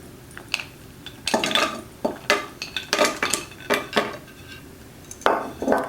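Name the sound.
saucepan with plant cream and chocolate pieces being stirred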